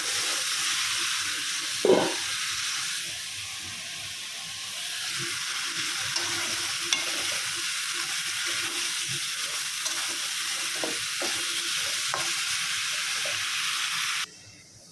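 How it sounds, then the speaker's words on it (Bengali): Spices and eggplant frying for a curry in a pan, a steady close sizzle and hiss with occasional stirring clatter that cuts off near the end, with no talk. "বেগুনটার জন্য মশলাটা কষাই নিচ্ছি এখন বেগুনটা দিয়ে দিবো"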